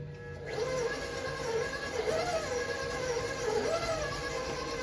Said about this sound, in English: Make snickerdoodles with the new mixer.